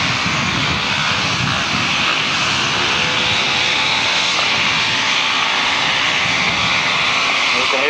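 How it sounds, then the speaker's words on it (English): Solo grasstrack racing motorcycles at a 1992 meeting rev their engines on the start line, a dense, continuous roar that fills the scene at steady loudness without a break. "You can hear those motors revving away to our left and away."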